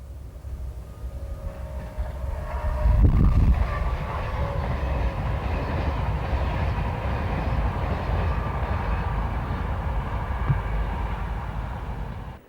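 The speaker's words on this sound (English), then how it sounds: "A southbound train of powder hoppers drifts by behind another Alstom locomotive" Southbound freight train of powder hoppers drifting past behind an Alstom locomotive on Portugal's Linha do Norte in 1989, a loud, continuous low rumble and rolling wheel noise with a brief heavier thump early on, no voices.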